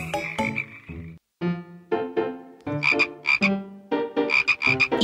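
Cartoon-style frog croaking sound effect, a series of loud, close, resonant croaks in an irregular run, some short and some drawn out, with brief pauses between them and no talk.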